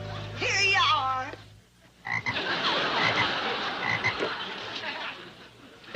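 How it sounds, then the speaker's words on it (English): A frog croaks in a comedic TV sitcom scene: a close, loud burst of rising, warbling croaks lasting over a second, followed by a noisy, bustling stretch of room sound. "It's a frog."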